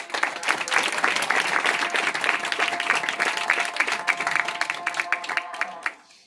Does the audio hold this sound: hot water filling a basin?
no